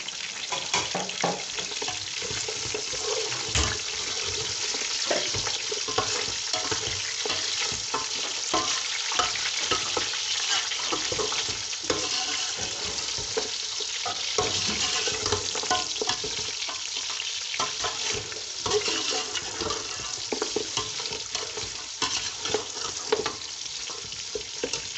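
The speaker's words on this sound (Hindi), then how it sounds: "अब मैं इसके अंदर ये गोश्त डाल रही हूँ।" Meat goes into hot oil in a pot for white pulao, sizzling and frying steadily with stirring scrapes throughout, close and continuous, no voices.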